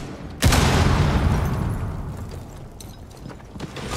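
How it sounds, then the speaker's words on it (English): A frag grenade detonates in Rainbow Six Siege, a sudden loud close blast that rolls into a long decaying rumble and debris clatter, with small impacts trailing near the end. "Frag grenade out!"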